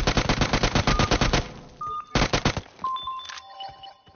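Loud automatic gunfire in the PUBG Mobile video game: a long rapid burst, a short pause, then a second burst, followed by scattered electronic game beeps and tones.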